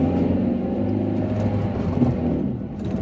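Vauxhall Meriva A car engine labouring uphill, a steady close low rumble and drone that holds throughout with slight surges, no talk.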